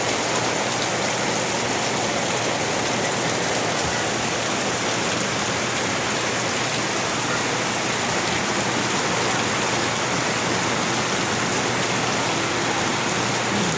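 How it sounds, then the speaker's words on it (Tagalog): Heavy rain pours in a dense, constant roar, loud and unbroken throughout with no voices. "napakalakas na ulan na naman ito."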